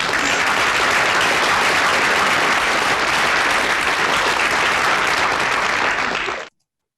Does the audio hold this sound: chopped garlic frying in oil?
no